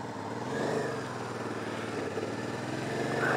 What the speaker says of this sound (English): V-twin liquid cooled engine, which is absolutely robust, and a shaft drive system